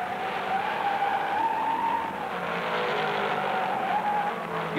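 A 1968 stock car slides into the infield at the Southern 500, tires skidding with a long wavering squeal over steady engine roar, loud and close for several seconds.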